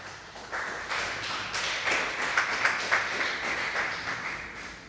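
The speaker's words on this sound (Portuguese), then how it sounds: "Vamos aplaudir a Jesus?" A church congregation claps together, a dense rattle of many hands that swells to a loud peak midway and then gradually thins out, filling the room with no voices on top.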